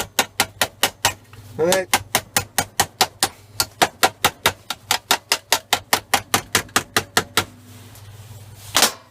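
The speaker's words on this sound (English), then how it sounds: "keep cracking on, getting some welds on it. Welds, tacks." An arc welder welding and tacking metal sets off a long series of sharp, evenly spaced crackling bursts, near and loud, with a steady electrical hum underneath and a brief spoken word partway through.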